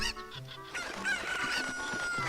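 Chickens in the video game Zelda: Ocarina of Time, a short burst of clucking and squawking followed by a rooster-like crow, clear and close, with a high in-game tone ringing under it.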